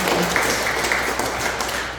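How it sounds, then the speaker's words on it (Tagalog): A church congregation giving a loud round of applause for the Lord. Dense, sustained clapping fills the room at close range, steady and without pause. "Isang malakas na palakpak po para sa ating Panginoon."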